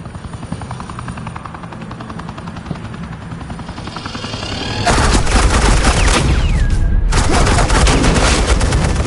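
Sustained suppressing gunfire, a heavy continuous roar of rapid shots that surges in loudly and holds over a whirring, helicopter-like drone, with a brief dropout near the end.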